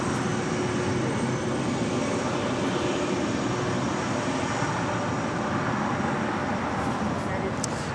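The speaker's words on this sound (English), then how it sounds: "This is one of those Delta 757-200s that operates as sports charters." A 32-year-old Delta Boeing 757-200 sports charter rumbles steadily on the ground at Los Angeles International Airport, its engine noise a constant broad roar at moderate distance.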